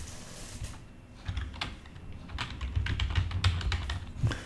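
Fingers type an email address on a computer keyboard, a quick run of close, crisp keystrokes that grows busier toward the end, with no speech.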